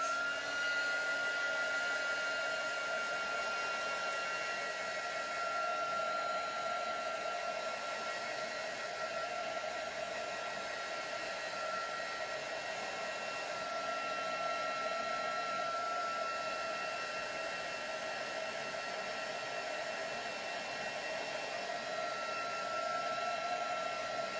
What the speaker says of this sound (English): I am going to take my heat gun and dry the paste